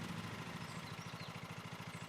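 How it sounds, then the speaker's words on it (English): Small lawn mower engine running in a lawn mowing simulator game, a steady low puttering idle with a regular pulsing rhythm, fairly faint and with no voices. "Hold Z to start the vehicle's engine."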